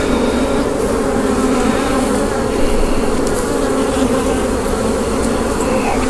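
Honey bees buzz around an open hive frame during a hive split, a dense, steady, close drone of many wings filling the whole stretch without pause.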